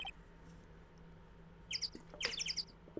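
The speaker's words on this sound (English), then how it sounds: "The birds." Bird chirps from the Ace Attorney: Trials & Tribulations video game, several quick high tweets in two short bursts late in the clip over a low steady hum, fairly faint.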